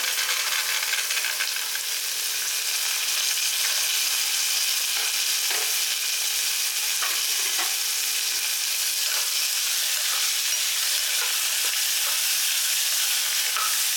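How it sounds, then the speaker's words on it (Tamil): Carrots, green peas and curry leaves sautéing in a pan with oil give a steady, even sizzle that runs unbroken throughout, with occasional soft stirring scrapes and no voices. "ரொம்ப வதக்க வேண்டியதில்லை, லேசாக வதக்கினா போதும்."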